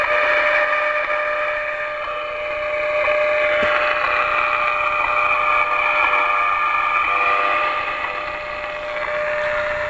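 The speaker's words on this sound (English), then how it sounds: "You can hear the time station." Time-station signal received on an Icom IC-7000 ham radio, a steady tonal carrier with faint harmonics over a constant hiss of background noise, continuous for the whole stretch with slight swells in level.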